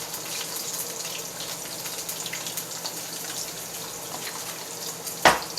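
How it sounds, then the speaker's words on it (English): Home-style potato fries frying in oil, a steady bright sizzle and crackle that holds evenly throughout, with one sharp clink near the end. "while they're frying in the oil"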